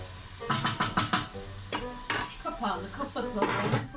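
Sliced onions sautéing in a pan for a cauliflower dish crackle and sizzle while a utensil stirs them in quick repeated scrapes and knocks against the pan, close and fairly loud.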